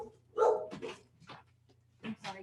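Dogs at home giving a few sharp barks and yips, a little distant, in short bursts with pauses between them, under faint background hum.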